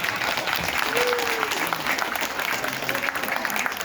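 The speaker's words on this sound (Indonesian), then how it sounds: "minta tepuk tangan dan senyum yang ikhlas meriah" An audience at an environmental school award ceremony claps in a dense, sustained round of applause filling the room, with a few murmured voices mixed in.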